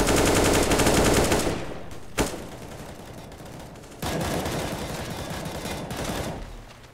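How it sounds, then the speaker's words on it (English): Video game gunfire during a competitive match, with a loud burst of rapid automatic fire, a sharp single shot, then a further stretch of quieter rattling shots. "Bullets fired off in every direction"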